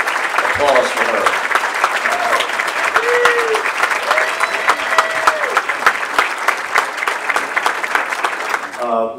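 A banquet audience at a high school sports hall of fame gives sustained, dense applause for an award winner, loud and even throughout with a voice briefly heard near the start and end.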